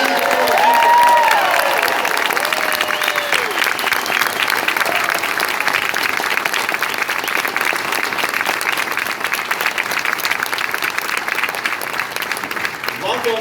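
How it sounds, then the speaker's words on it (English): A large audience applauds veterans at an Honor Flight send-off ceremony marking VJ Day, a dense, loud, sustained wash of clapping with some cheering and whistles, holding steady for the whole stretch. "Let's have a round of applause."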